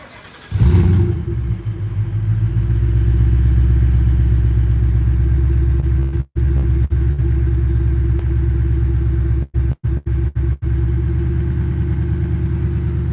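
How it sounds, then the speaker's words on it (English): A Shelby car's engine cold-starts, then settles into a loud, steady rumbling idle lasting several seconds, broken by a few brief dropouts near the end. "So I'll give you guys a cold start."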